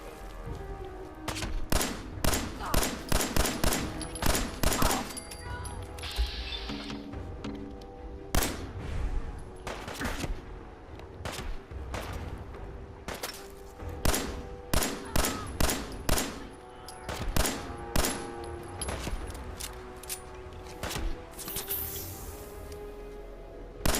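Gunfire in the video game Fallout 4, repeated sharp shots and bursts scattered through the stretch, some in quick clusters and others spaced apart, with booming impacts and background game sounds between them and no talking.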